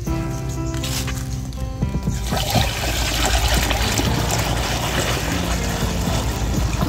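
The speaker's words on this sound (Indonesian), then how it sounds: "ini tinggal diisi air full saja kawan ya, hingga penuh" Water pours steadily into a sprayer tank being filled with an insecticide mix, a continuous close trickling and splashing rush with no pauses.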